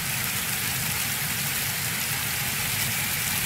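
Steady rain falls in a video game, a dense, even hiss of drops on surfaces with a faint low rumble beneath, constant and close with no talking.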